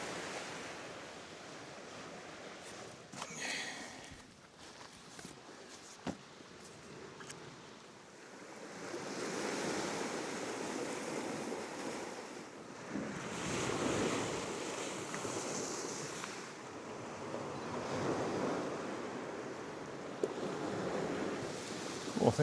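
Sea waves wash up onto the rocky shore at Ayrmer Cove in a continuous surging roar, with wind buffeting the microphone and swells rising and falling over a long stretch without speech.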